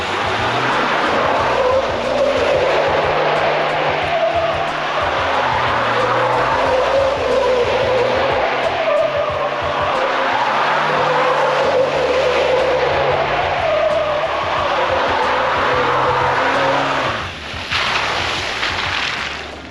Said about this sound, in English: I could easily do a donut Raptor.